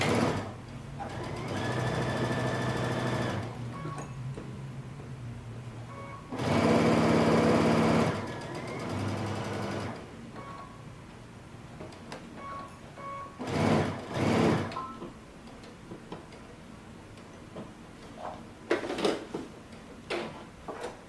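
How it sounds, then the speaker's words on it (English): A sewing machine stitching a sleeve seam with 5/8-inch seam allowance, several close bursts of fast whirring stitching separated by pauses and small handling clicks, with no talking. "now we're going to start to sew using 5/8 of an inch seam allowance"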